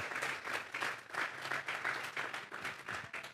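A church congregation claps in rhythmic waves, a fairly faint but steady burst of applause with beats pulsing together and no voices on top.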